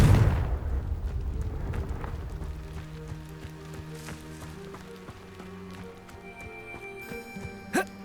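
The Confringo blasting spell in Hogwarts Legacy goes off with a heavy, booming explosion at the start that rumbles and fades, followed by scattered crackling debris and game ambience, with one sharp hit near the end.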